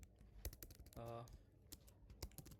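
Text is typed into an Excel spreadsheet on a computer keyboard, with scattered crisp key clicks at an uneven pace and a short voiced sound in the middle.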